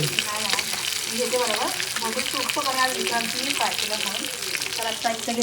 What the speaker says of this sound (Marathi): मी ह्या सगळ्या मसाला लावून घेते आणि फ्राय करते